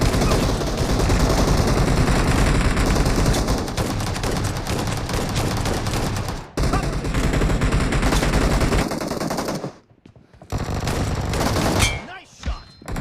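In the BGMI battle-royale game, dense rapid gunfire and heavy shotgun blasts go on almost without a break, loud and close, with brief pauses near the end and some voices mixed in.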